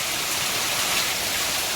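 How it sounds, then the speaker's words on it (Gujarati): Heavy monsoon rain pouring off roof eaves makes a dense, steady, loud hiss of falling water throughout, with no distinct drips or voices. "વરસાદ આવી ગયો જુઓ કેટલા નેવા ખરે જોરતા"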